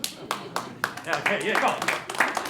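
A conference audience in Los Angeles breaks into scattered, uneven clapping that comes in bursts, partly under a man's speech and other voices.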